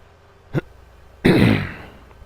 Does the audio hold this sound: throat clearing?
yes